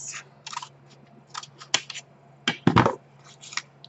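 Scissors cutting paper to size for tiny handmade journals, heard as a series of short, crisp snips at an uneven pace, close up and alone against a quiet background with a low steady hum.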